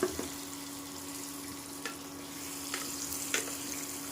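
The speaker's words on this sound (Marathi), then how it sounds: "व्यवस्थित तेलावरती अशी वांगी ही परतून घ्यायची" Stuffed brinjals sauté in oil in a pot on an induction cooker, a steady close frying sizzle with a few sharp utensil knocks and stir scrapes scattered through, no one speaking.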